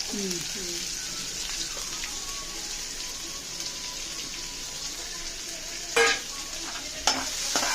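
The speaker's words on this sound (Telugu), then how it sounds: "సన్నగా తరిగిన ఆనియన్స్ ఒక 2 మినిట్స్ కలుపుతూ ఉండాలా?" Finely chopped onions sizzle steadily in a pan while being stirred for idly upma, a continuous frying hiss with a couple of sharp utensil knocks near the end and no talk.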